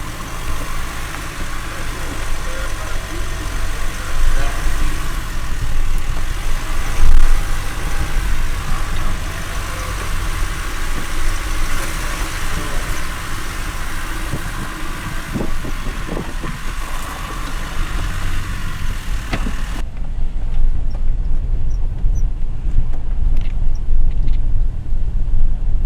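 A GWM P-Series ute climbs a small hill on an off-road track, its engine giving a steady low rumble with tyre and body noise, loud and close, with a few knocks partway through.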